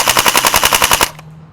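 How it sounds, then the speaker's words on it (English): An LCT AK EBB airsoft rifle with blowback, run on an 11.1 volt LiPo battery, fires on full auto: a rapid, even burst of about eleven sharp, loud mechanical cracks lasting a second, then an abrupt stop into quiet. "Let's put this thing on full auto and see our rounds per second."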